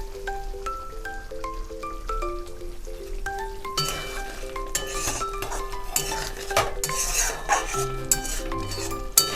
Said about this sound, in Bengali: এবার আমি ঢাকনাটা সরিয়ে নিচ্ছি।